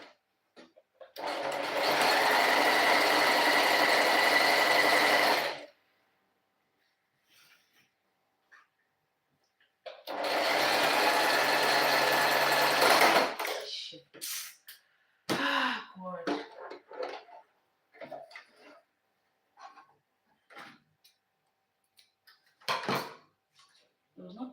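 A sewing machine runs a straight stitch in two steady bursts of several seconds each, close and loud, followed by scattered handling clicks and brief bits of speech.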